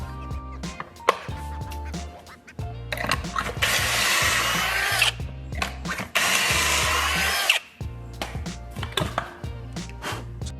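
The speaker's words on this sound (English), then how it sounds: "Drill 2 holes on each side." A power drill bores pocket holes in wood for a farmhouse desk build, loud whirring bursts alternating with short pauses and clicks, close up with no talk.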